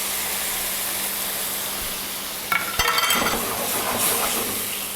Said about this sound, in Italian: aggiungiamo anche un mestolo di acqua. A questo punto guardate come sfrigolerà